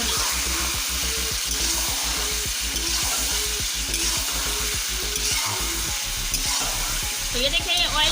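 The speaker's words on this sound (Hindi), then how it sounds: "और साथ ही अब इसमें चिकन शामिल कर दूंगी और इसे डीप फ्राई कर" Chicken pieces deep frying in hot oil in a karahi, a loud continuous crackling sizzle with bubbling texture throughout, no talking.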